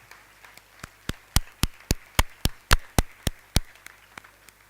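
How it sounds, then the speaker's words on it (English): Claps for a professor at a College Day ceremony: a dozen or so sharp, evenly spaced claps over a few seconds, close and distinct rather than a dense crowd roar. "Let's give her a big round of applause."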